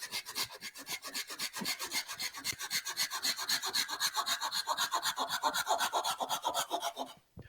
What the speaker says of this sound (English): I don't want to hit the screws with the saw